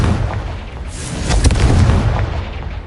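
A Confringo blasting spell in Hogwarts Legacy goes off as a loud, booming explosion with a sharp burst, then a rumbling decay, heard alone with no voices.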